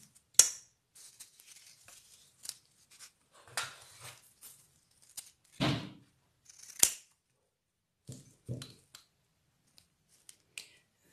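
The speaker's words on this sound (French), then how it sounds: "Découpe des bandelettes de papier carton, de papier buvard" Scissors snip through strips of cardboard and blotting paper in sharp, separate cuts, about a dozen crisp clicks and short rasps spaced irregularly, close and fairly quiet against near silence.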